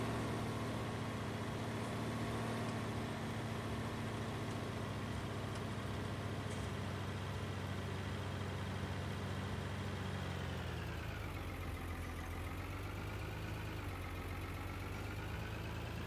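A tractor engine in Farming Simulator 19 drones steadily and loudly throughout, then its pitch dips and swells near the end as if revving or changing speed.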